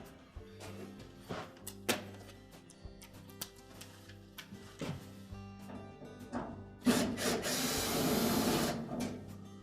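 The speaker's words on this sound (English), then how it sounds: "we'll remove 2 screws on the front panel and remove the front panel" Screws being backed out of the front panel of a Whirlpool washer laid on its back, with a screwdriver making repeated scraping, clicking metallic sounds close by, ending in a louder rattling scrape of the panel.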